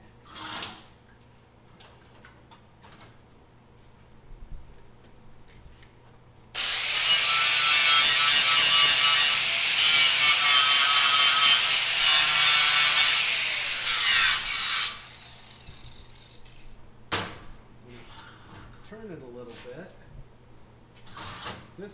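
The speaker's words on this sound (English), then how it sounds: "So I got to grind a little bit of paint off the back." An angle grinder strips paint off the back of a piece of metal in one loud, harsh burst of about eight seconds, with quieter workshop handling noises before and after.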